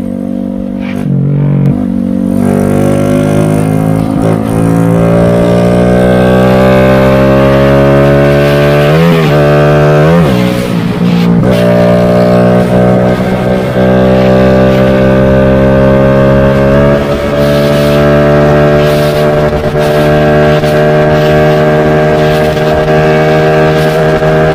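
Honda XRM 125 FI motorcycle with a 57mm big-bore build roaring loud and close through a speed run, engine climbing in pitch through gear changes, sustained and heavy with no talk.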